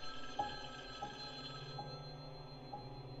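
Telephone ringing in a fan-made Halloween horror video game: four evenly spaced electronic rings over a steady humming background, fairly clear and alone with no talking.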